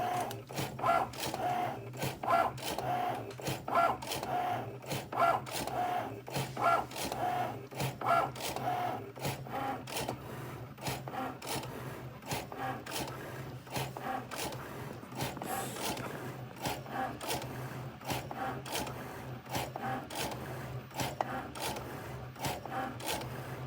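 A Cricut cutting machine making calibration cuts, its motor and blade carriage whirring back and forth with a steady run of short repeated strokes, then a busier mechanical rasp, close and continuous with no talking.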